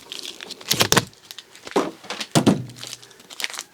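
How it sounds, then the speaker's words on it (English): Plastic blister package of Lisle disconnect pliers being sliced open with a blade and pulled apart, giving a few sharp crackling bursts and thuds close by with short pauses between them. "So let's use the blade to cut this package open."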